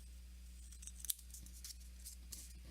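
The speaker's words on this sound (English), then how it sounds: "just take some scissors and trim the extra off" Scissors trim excess paper from a handmade greeting card, a faint, brief snip standing out over quiet room noise with a few light rustles.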